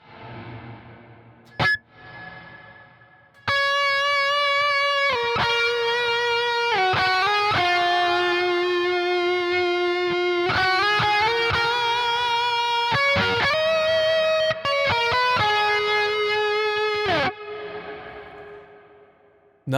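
Sustained distorted electric guitar chords from a Toneforge Jeff Loomis amp plugin, played in several long phrases, washed in the huge, spacious 'cloud' reverb setting that lingers and trails off at the end.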